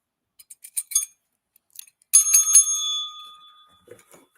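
A few faint tinny taps, then one bright metallic ring from a broken bell that sustains and slowly decays, with a soft rustle near the end; close and alone, no talking.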